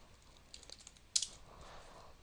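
Computer keyboard keys tapped faintly in a quiet room, a few soft clicks followed by one sharper, louder keystroke near the middle.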